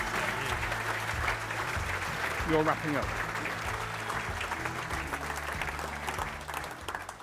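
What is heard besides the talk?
applause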